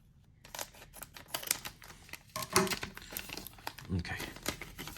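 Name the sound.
trading card pack cut open with scissors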